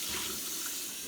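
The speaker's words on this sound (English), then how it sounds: "we'll just do a quick rinse here" A kitchen tap runs steadily as a glass jar is rinsed out during kombucha making, a continuous close splashing hiss of flowing water with no voices.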